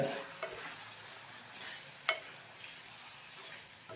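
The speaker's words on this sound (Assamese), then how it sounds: "ভাজি থাকিম।" Steady sizzling of vegetables frying in a pan, with a few soft scrapes and clinks of stirring; no voices.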